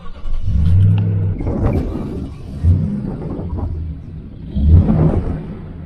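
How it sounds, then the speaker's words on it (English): A Toyota Tundra's 4.6-liter V8 with dual exhaust runs close by, giving three deep, throaty revs that swell and settle back into a low rumbling idle between them. "Let me start it up for you. It has dual exhaust, and I love the way it sounds."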